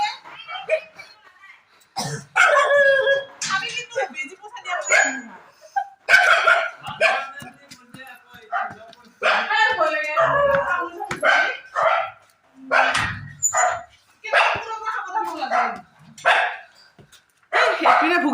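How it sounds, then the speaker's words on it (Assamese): Dogs bark repeatedly in short sharp bursts, some yipping and whining, close by and fairly loud, with a person talking in between. "কুকুৰৰ পৰা সাৱধান"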